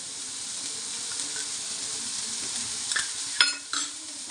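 Dried red chillies and cumin seeds frying in oil for a village-style horse gram bassaru, a soft continuous sizzle with a few sharper crackles and spoon clinks near the end.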